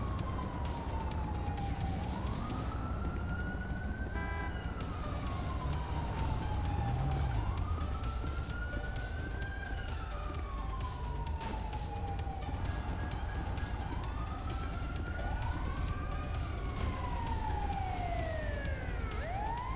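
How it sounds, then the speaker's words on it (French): Police and ambulance sirens in the video game GTA 5, wailing and rising and falling in long overlapping sweeps over a low engine rumble, fairly quiet and steady throughout. "C'est bon, l'ambulance est là."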